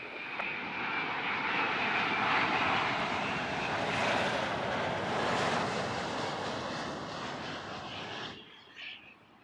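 Airliner landing at Heathrow Airport, a loud continuous jet engine roar with broad rushing noise that holds steady for several seconds, then cuts off abruptly near the end.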